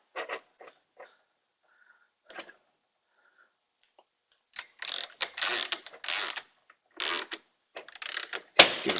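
A U-joint press yoke being loosened on a vehicle driveshaft gives a few sparse metallic clicks, then dense bursts of close ratcheting and grinding in the second half, with short pauses between turns.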